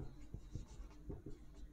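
Hand-written formula in a statistics lesson, with quiet, close scratchy strokes of a pen or marker coming in short bursts over a low background hum.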